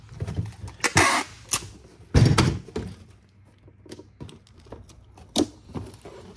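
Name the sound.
packing tape applied to an old priority mail box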